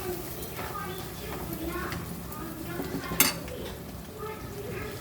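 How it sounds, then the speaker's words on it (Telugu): Boiled lentil dal with leafy greens is tempered in a pan, with a spoon stirring and scraping, soft clinks and a faint sizzle as a voice talks in the background. "ఇదండి పప్పు తిరగబోసేస్తున్నాను."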